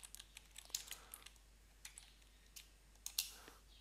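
Typing a folder name on a computer keyboard: quiet, close, irregular key clicks in short bursts, with a couple of sharper taps near the end.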